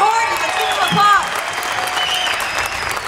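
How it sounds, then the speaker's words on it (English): A crowd at an outdoor political rally in St. Louis claps in brief applause, mixed with cheering, whistles and overlapping voices. "Ken Horton, let's give him a applause."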